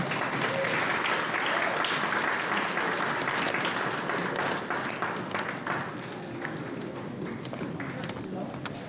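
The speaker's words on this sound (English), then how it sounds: "I don't know if we applauded the Victoria Park Gallery" Audience at a community achievement awards ceremony in Kincardine applauds steadily, a dense wash of clapping that stays loud throughout and eases slightly toward the end, with some voices mixed in.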